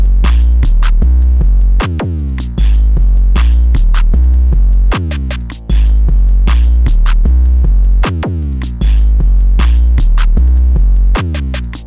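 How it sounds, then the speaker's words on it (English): A full drum beat programmed in FL Studio with Nara drum kit sounds pounds loudly and steadily with punchy hits and deep, booming 808 bass notes, looping through a repeating pattern with no voices. "All the drums together sound like this."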